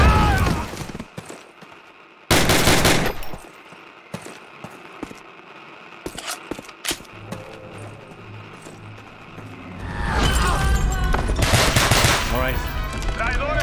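Gunfire and grenade blasts from a Call of Duty battle: loud bursts of shots and explosions come at intervals, with a long heavy barrage near the end, and faint voices and clatter in between.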